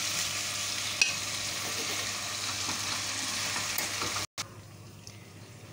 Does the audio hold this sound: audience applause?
no